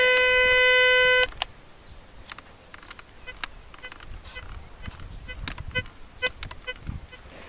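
An old Lidl metal detector switched on in a field, giving a loud steady electronic tone for about a second, then a busy stream of faint crackling buzzes, chirps and short bleeps as it is tuned.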